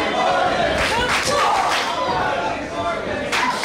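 Loud, steady roar of a large crowd at a women's wrestling battle royal, with surges of cheering and shouting that swell and fade throughout, sustained and close without a break.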